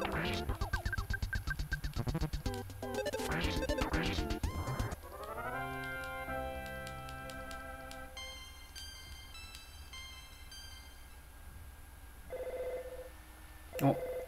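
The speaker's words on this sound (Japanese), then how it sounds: "電話。" A telephone rings in the video game Mother 2, its repeated electronic ring tones sounding amid game music and sound effects, with a voice speaking briefly over it.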